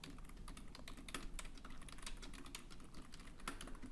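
Rapid clattering keystrokes on a computer keyboard during a word-processor tutorial, steady and close, with no voice present.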